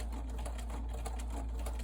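Sewing machine running in reverse to lock the stitches on fabric for a remote control holder, a steady close mechanical whirr with rapid needle ticking and a low hum underneath, with no talk.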